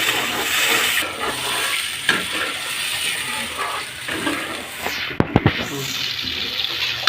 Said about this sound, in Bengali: এর মধ্যে গরম জল দিয়ে দেবো।